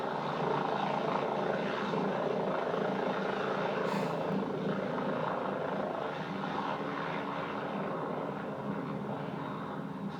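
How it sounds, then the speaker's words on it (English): A medical rescue helicopter airlifting a patient to a hospital trauma unit gives a continuous rotor and engine drone, moderately distant and fairly faint, steady across the whole stretch with no speech. "Steve was airlifted to the trauma unit of McKay-Dee Hospital."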